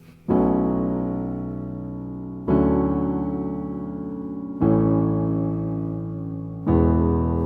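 A piano plays a song's chorus as four sustained chords, each struck cleanly and left to ring and fade before the next. It is close and alone, with no voices.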